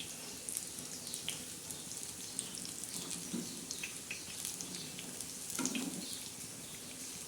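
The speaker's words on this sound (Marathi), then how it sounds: "मिरच्या तळल्या बाई बेसन पिठात" Green chillies fry in gram flour batter, giving a faint, steady sizzle with scattered crackles and a couple of brief stirring or clattering sounds.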